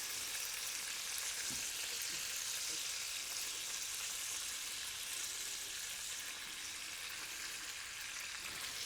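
Soft, continuous sizzling and frying as cooked spaghetti is stirred into a pan of frying guanciale, with faint scraping of stirring throughout.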